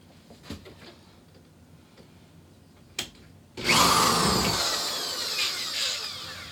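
A corded power drill bores into wood, opening with a few faint knocks before a loud whine bursts in and runs steadily for several seconds, tapering slightly toward the end.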